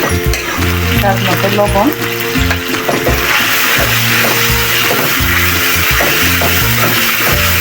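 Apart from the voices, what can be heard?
spicy beef tripe being sautéed in a pan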